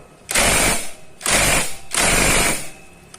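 Three loud ratcheting bursts, each roughly half a second to a second long with short pauses between, as a wrench tightens the special bolt of a magneto puller on a motorcycle engine.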